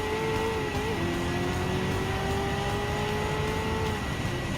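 Race car engine in Gran Turismo 7, an American car lapping Blue Moon Bay Speedway Infield A, with a steady loud drone and a slowly shifting engine pitch, a brief dip near one second, continuous throughout with no talk.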